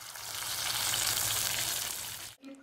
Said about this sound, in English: Then we fried the fish in a clay pot